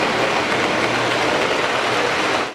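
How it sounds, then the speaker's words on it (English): A model train runs steadily on a museum display layout depicting a 1940s–1950s steel mill town, giving a loud, close, continuous rushing rumble with no voices, cutting off abruptly at the end. "This train display was created by the Western Reserve Modular Railroad Club"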